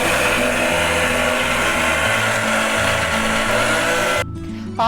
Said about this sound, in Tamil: இந்த பாதி அரிசி இப்போ நம்ம மிக்சர் ஜாரில் போட்டு நம்ம நல்லா ஃபைனாக பவுடர் பண்ணி எடுத்துடலாம்